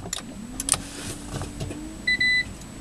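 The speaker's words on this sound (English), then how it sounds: "Car is started." A Toyota Prius T Spirit hybrid powers on almost silently. There is a faint motor whine and a few soft clicks, followed by two short electronic beeps near the end, all quiet and close inside the cabin.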